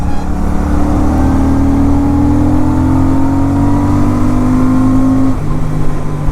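A Royal Enfield Super Meteor 650 motorcycle engine revs steadily higher toward redline in third gear, a loud, close, continuous drone whose pitch climbs smoothly for about five seconds before dropping off.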